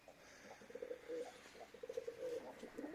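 Pigeons or doves coo repeatedly in a soft, rhythmic series of low throaty calls. They are fairly close and continuous over faint background noise, with no speech.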